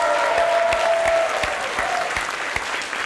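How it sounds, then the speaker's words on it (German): An audience at a stage show claps in sustained applause, dense and even, with a faint tonal feedback-like whine riding over the clapping early on before it tapers slightly. "Großen Applaus übrigens!"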